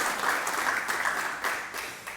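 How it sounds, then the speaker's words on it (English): An audience at an animal protection event applauds, a dense, steady wash of many hands clapping throughout, fairly close and even in loudness with no voices on top. "truly a big round of applause for DA Copeland."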